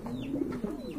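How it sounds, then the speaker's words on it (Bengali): A male pouter pigeon coos softly in a short, faint burst of throaty, rolling calls, close by and alone. "এটা কিন্তু আপনার নর কবুতর"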